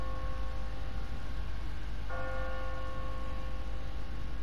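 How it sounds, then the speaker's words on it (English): A church bell in The Walking Dead video game starts ringing automatically on a timer, its steady tone entering partway through over a constant background hum. "What kind of church bell goes off at 20 past the hour?"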